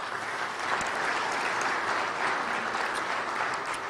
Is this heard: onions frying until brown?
no